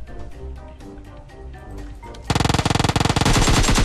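Rapid automatic gunfire in the video game PUBG erupts after a quieter stretch of background game sound, a close, loud, fast burst of evenly spaced shots lasting over a second.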